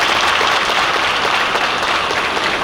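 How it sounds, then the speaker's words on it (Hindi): Audience applause for a 12th-grade boy pitching an agricultural innovation for farmers at a startup judging panel, dense steady clapping filling the whole moment without voices. "मैं तो आपके लिए ताली बजाना चाहूँगा।"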